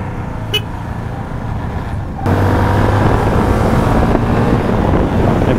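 Road traffic rolls past from the saddle of a 250NK motorcycle, with a steady wind roar and engine drone that grows louder partway through and a brief horn toot near the start.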